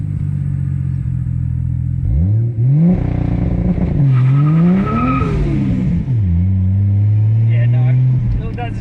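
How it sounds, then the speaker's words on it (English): A Ford Falcon using factory launch control revs hard and launches with its tyres spinning, the loud engine note climbing and falling through several surges, with someone talking over it. "Yeah, no, still does spin the tyres"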